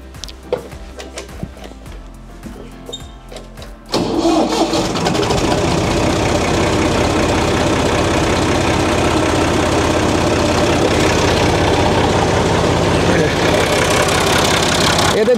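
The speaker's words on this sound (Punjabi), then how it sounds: "ਹੁਣ ਮੈਂ ਤੁਹਾਨੂੰ ਟਰੈਕਟਰ ਨੂੰ ਸਟਾਰਟ ਕਰਕੇ ਦਿਖਾਉਣਾ।" A restored Massey Ferguson 135 three-cylinder tractor with a rotary pump fires up after a few seconds of quieter sounds, then settles into a loud, steady diesel idle close by.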